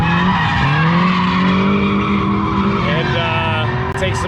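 Cars drifting around a skid pad, a loud continuous tire squeal with wavering engine drone close by, the pitch sliding up and down as they slide through the turn.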